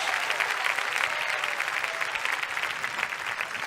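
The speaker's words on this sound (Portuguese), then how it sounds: "Se é para aplaudir, é todo mundo junto, com vontade, bem bonito para Jesus" A church congregation applauds together in a sustained, dense wash of clapping that stays steady and loud throughout, with no voice over it.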